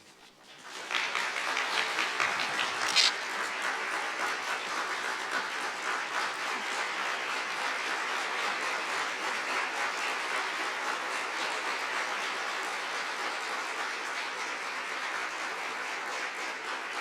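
A large audience at a formal Department of Justice heritage month observance breaks into sustained applause after a speech, a dense, even clapping that swells in quickly and holds steady for the full length without voices.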